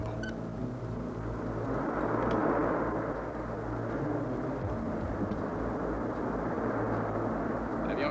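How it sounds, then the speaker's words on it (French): Aircraft number 417 touches down at an airfield, a steady broadband engine rumble and roar that holds throughout, swelling slightly midway, with faint voices in the background. "L'avion 417 a atterri."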